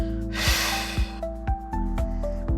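A sharp, breathy exhale during a pilates exercise, close and fairly loud, with a few softer puffs of breath and small knocks after it.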